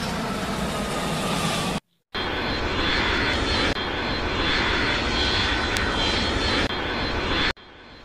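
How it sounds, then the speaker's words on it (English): A propeller airplane drones steadily overhead for several seconds, loud and continuous, with two brief dropouts. "Well, there was just a plane there."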